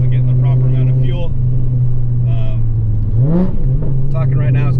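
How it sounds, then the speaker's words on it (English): A Volkswagen 2.5 five-cylinder with a Stage 1 tune drones loudly from its exhaust under acceleration. The steady low engine tone dips briefly, then climbs again, while a person talks over it from inside the car. "It smoothed out the exhaust note for sure."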